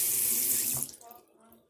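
A tap runs to refill water for birds: a strong, close gush of running water lasts under a second, then cuts off, leaving a few faint clinks and drips.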